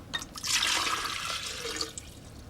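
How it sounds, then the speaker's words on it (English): Water poured into a glass jar, a steady splashing pour that swells loudly after a brief start and then tapers to a softer trickle, heard alone up close. "He took a glass jar and poured in some water."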